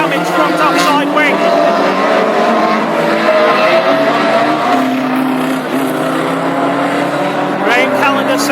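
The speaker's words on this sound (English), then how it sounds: "Brett Snedden still challenging hard against 198 Andy Steward as they lap the 63 car for the second time" Classic hot rods with Pinto engines roar around the Lochgelly oval in a Scottish Open heat, engines loud and continuous with rising and falling revs, while a commentator talks over the racing.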